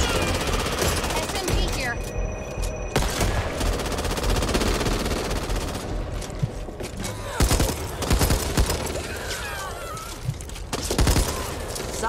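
Submachine gun fire in the co-op zombie shooter Back 4 Blood, loud sustained automatic bursts with sharp cracks throughout, mixed with game effects and chaotic action over about twelve seconds.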